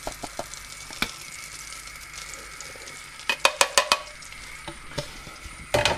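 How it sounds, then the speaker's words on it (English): A whisk stirs flour into hot butter in a pan for a roux, giving soft scraping and sizzling with several sharp taps of metal against the pan, near and alone. "we want to start whisking immediately"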